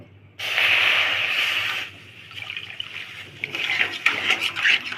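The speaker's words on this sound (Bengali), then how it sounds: "এখন দিয়ে দিব যে কাপে মেপে সুজি নিয়েছি, সেই কাপ মেপে 2 কাপ জল।" Water poured from a measuring cup into a pan of fried semolina gives a loud, close gush that hisses and bubbles for over a second, then settles into softer, irregular sputtering and trickling.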